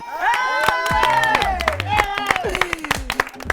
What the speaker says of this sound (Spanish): reciban con un fuerte aplauso a Eva Blond.